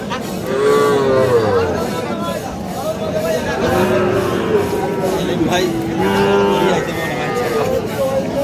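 Cattle moo loudly and repeatedly at a busy rural calf market, long bellowing calls close by over a constant murmur of crowd chatter and voices.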